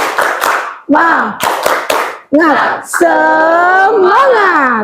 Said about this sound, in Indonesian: kita laksanakan tepuk semangat dulu ya